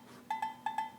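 Four short, bright metallic strikes from a low agogo bell in Logic Pro, left unequalized, play close and alone in an uneven pattern of two pairs, each ringing briefly.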